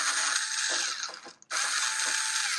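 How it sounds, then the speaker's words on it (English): Cordless 4V screwdriver backing screws out of a Blu-ray player, a close steady whirring drive that stops briefly mid-clip and then starts again. "I can use this to remove the screws."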